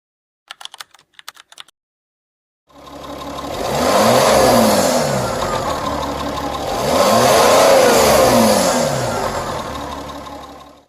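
An Audi diesel car engine revs and accelerates in two long swelling passes, rising and falling in pitch, loud and close, after a few brief clicks and a pause of silence.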